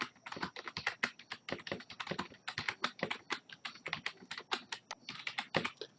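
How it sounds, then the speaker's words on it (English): Fingers type quickly on a computer keyboard, a dense, steady patter of close, crisp keystrokes for several seconds with no voices. "Let's type it again."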